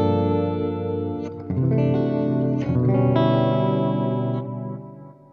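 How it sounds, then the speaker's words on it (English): A Walrus Audio Bellwether analog delay pedal, set for tape-echo wobble, adds soft pitch wobble and echoing repeats to sustained guitar chords, with a few strummed changes before the tail fades. "Just a little bit of wobble in there. Get kind of a tape echo type sound."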